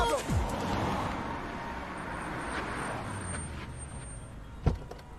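Street traffic noise in a jam in Bombay, a steady broadband roadway rumble with car engines and a brief sharp thump near the end, voices faintly underneath.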